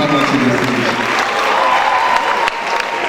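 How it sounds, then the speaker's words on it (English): An audience keeps clapping as cast members of a Medea stage production walk onto the stage: continuous, fairly loud applause with crowd murmur and voices, easing slightly near the end. "Please, let's keep on clapping as we come onto the stage."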